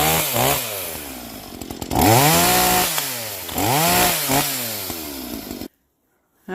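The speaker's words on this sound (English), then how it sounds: "That Makita saw is great." Makita chainsaw cutting through brush, its engine loud and close as it revs up and down repeatedly, then cutting out abruptly near the end.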